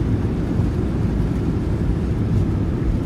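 Thrust reversers on a Boeing 737-800 in Microsoft Flight Simulator 2020 produce a loud, dense, steady low roar on landing at Oslo Gardermoen, sustained throughout without a break.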